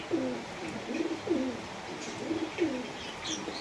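Shahjahanpuri bhura pigeons coo in a steady series of low, throaty, rolling calls repeating about every second, close by over faint background hiss.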